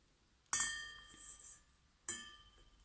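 Two bright glassy clinks from a pretty vase being set down and handled, the first ringing out for about a second and the second shorter, both close and clear in a quiet room with no talking.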